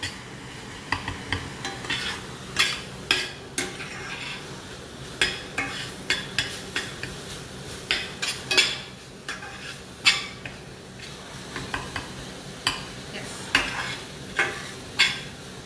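Onions and garlic frying in a pan, with a soft steady sizzle broken by frequent scraping and knocking strokes from a stirring utensil at an uneven, busy rhythm, close and without speech.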